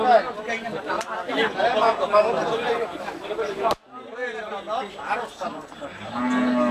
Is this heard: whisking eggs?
no